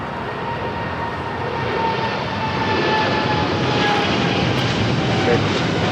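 An American Airlines heavy airliner taking off at LAX gives a steady, broad engine roar with a rising whine, loud and continuous throughout, growing slightly stronger midway.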